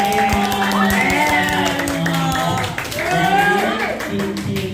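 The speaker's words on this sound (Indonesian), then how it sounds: "Oke, tepuk tangan." A group claps hands in a classroom training session, a dense burst of sharp claps mixed with many voices calling and chattering throughout.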